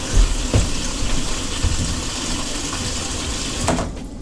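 Water sprays hard from a hose at high pressure outdoors beside a school bus tiny home, a steady broadband hiss with a few brief knocks and splashes throughout.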